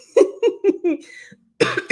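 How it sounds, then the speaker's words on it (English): A few sharp, close coughs in quick succession, a brief pause, then another harsh burst of coughing. "Okay, cough is still there."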